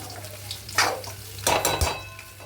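Chowmein in a pan with masala being mixed in gives a close, soft hiss of frying under scraping and clinking stirring strokes in short bursts, with no talking.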